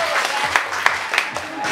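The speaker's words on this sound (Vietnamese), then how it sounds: "Xin cho một tràng pháo tay cho mọi người." Applause from the staff at a 2016 company Christmas party for Nguyen Khang, a dense clapping texture with a few sharper claps standing out, loud and steady throughout.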